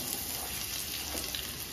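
Long-cut large onion slices frying in a pan for chickpea biryani, a steady soft sizzle with faint crackles throughout, fairly quiet and close with no voices.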